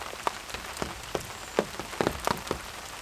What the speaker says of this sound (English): There's no sign of this rain clearing anytime soon